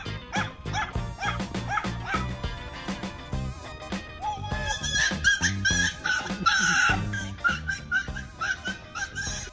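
A small dog barks, yips and whimpers in quick, uneven bursts, fairly close and loud, over a steady musical backing.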